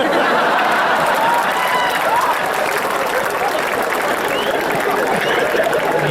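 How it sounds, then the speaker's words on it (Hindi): Loud, steady applause from a poetry-gathering audience at a national kavi sammelan held at Chandigarh University, continuous dense clapping for about six seconds with crowd murmur beneath. "तालियां बजाने वाली बात नहीं थी"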